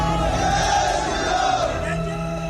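A large crowd of protesters shouting together, a continuous loud roar of many voices with no pauses.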